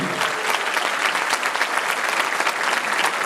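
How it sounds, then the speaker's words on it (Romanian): Dense, steady applause from a gala audience after a Viennese waltz performance at a 2023 dance gala. The clapping is loud and fills the whole stretch without pause. "Aplauze pentru ele!"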